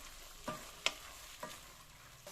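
Avarebele curry ingredients fry quietly in a pan. A soft, steady sizzle is broken by three or four brief scraping strokes from stirring.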